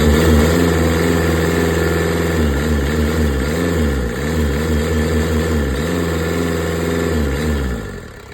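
A Kubota V1505 four-cylinder diesel engine runs loud and close, its rumble rising and dipping in repeated revs over a steady idle before easing off at the end, with no voices.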